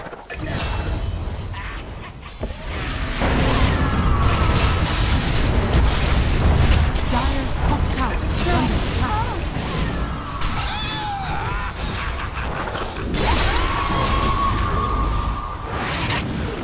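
A Dota 2 tower under attack, dense booming impacts and crashing hits layered with continuous loud battle effects, spell sounds and clashing over the whole stretch, with no speech.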